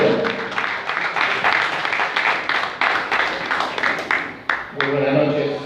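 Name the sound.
audience applause for an engineer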